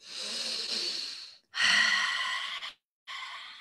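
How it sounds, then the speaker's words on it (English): Breath of fire breathing exercise during a yoga-style session: long, loud, forceful breaths in three separate bursts with short silent pauses between them, close and alone. "we're going to practice a little bit of the breath of fire"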